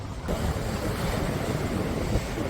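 Ocean waves wash steadily onto Wollongong beach in Australia, a dense continuous roar of surf with wind buffeting the microphone, loud and unbroken with no voices.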